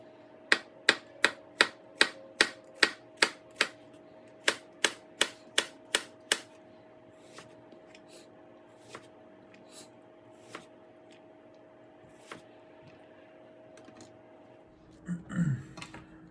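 A knife dices an onion on a cutting board: a fast, steady run of crisp chops that slows into a few scattered taps, then a quiet pause and a brief rustle.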